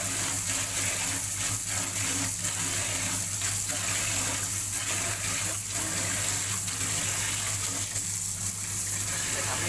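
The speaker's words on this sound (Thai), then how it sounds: "ล้างก็จะเทน้ำทิ้งนะครับ" Rinse water is poured out of a basin while making soy milk, gushing and splashing steadily in a continuous close rushing sound over a low background hum.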